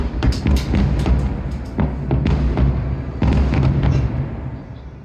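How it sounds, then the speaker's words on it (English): Fireworks go off over Disney park in a quick series of loud, near booms and sharp cracks, with several bursts overlapping before the sound fades at the end. "it ended like all days end at Disney, watching fireworks."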